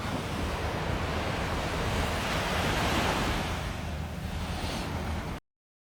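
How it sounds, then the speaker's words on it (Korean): Ocean waves surge and wash continuously, a loud, close roar of surf mixed with wind, ending abruptly. "파도 소리 너무 좋죠"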